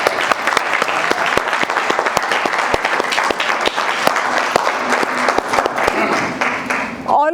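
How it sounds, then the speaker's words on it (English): Loud, sustained applause from a crowd at a Women's Day speech event honoring the women present, dense clapping close and full, with a few cheers and voices mixing in near the end. "let's give them a huge round of applause."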